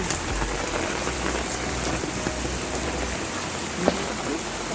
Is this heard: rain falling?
yes